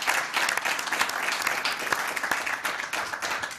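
Studio audience applauding a keyboard musician on a French television variety show, a dense, steady burst of many hands clapping close and fairly loud for several seconds, with no talk over it.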